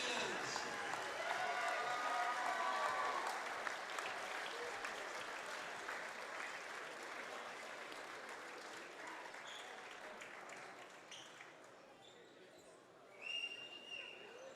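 A high school gym crowd applauds and cheers for the 1990 CIF boys basketball champions, with loud sustained clapping that gradually fades, voices mixed in, and a brief burst of noise near the end.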